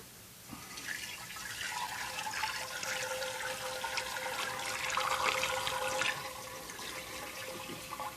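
Dissolved sugar water pours steadily into an Italian ice machine, a continuous close splashing stream lasting several seconds before easing off.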